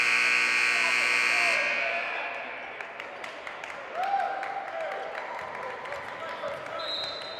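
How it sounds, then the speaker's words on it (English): Errant buzzer sounding in a men's college volleyball gym, a loud sustained electronic tone at the start that cuts off, followed by sneaker squeaks, crowd noise and a commentator talking. "Sounds like an errant buzzer."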